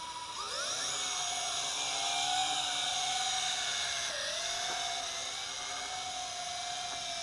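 A JJRC H26WH large FPV altitude-hold quadcopter drone lifts off and flies, its motors giving a steady, loud high-pitched whine that rises at takeoff and holds with small pitch dips, with no talk over it.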